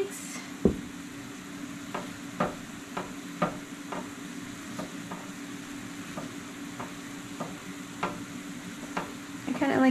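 Eggs sizzling in a hot pan while a utensil pushes them around, a steady fry hiss under a series of sharp scraping ticks against the pan, close up with no voices.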